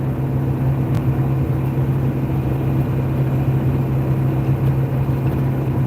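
Ford 7.3 Power Stroke diesel truck cruising on a rural road, a steady loud low drone with a strong humming tone that dips briefly around a gear change, heard from inside the cab.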